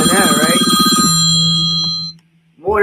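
Telephone ringing in a morning radio studio: a steady electronic ring that keeps going under a host's talk, then stops briefly before the talk resumes.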